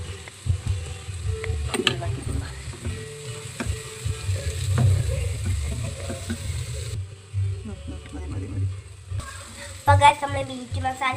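Ingredients sizzle and fry in a pan as turmeric and spice powder are stirred in, with a steady crackle, scraping of a spoon and occasional clinks, while a voice talks over it.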